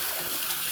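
Basmati rice being rinsed in water for Persian rice, a steady close splash and swish of water with no talk, brief.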